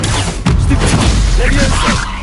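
Incendio fire spell cast in the Hogwarts Legacy video game: a loud burst of whooshing, crackling impact noise with thumping hits, dense and close, filling the short moment.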